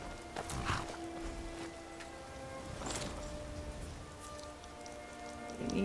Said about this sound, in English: bask in the coldness of the fucking rain